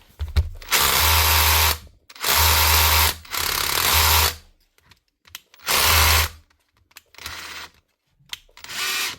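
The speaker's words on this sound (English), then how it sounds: "Makita SDS drill, DHR242" A Makita DHR242 SDS rotary hammer drill, from a batch of faulty tools, runs in several short bursts, a loud rough whir cutting in and out with quiet gaps between, close by and without talk.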